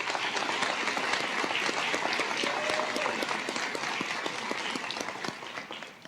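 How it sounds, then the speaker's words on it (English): An audience at a school district evening event applauds for career and technical education teachers, a dense, steady wash of many hands clapping at moderate volume that tapers slightly toward the end. "Please give them a round of applause."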